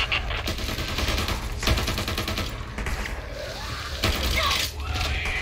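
Rapid automatic gunfire in the video game Back 4 Blood, loud and sustained in overlapping bursts with mechanical clatter, and a voice shouting briefly in the mix.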